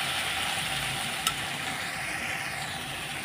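Constant crackling sizzle of water lily stems frying in a pan, close and even, with one brief clink partway through.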